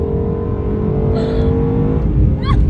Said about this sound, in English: this car is so fast and so smooth that it's just like, it's like a smooth buzz